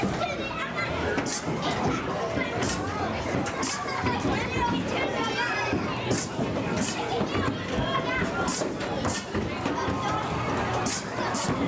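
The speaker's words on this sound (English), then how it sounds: "Noah, enjoy the sounds of children screaming in 1990." Children at play in a 1990 home movie, a steady dense mix of shrieks, excited chatter and shouting voices over a busy room-like background throughout.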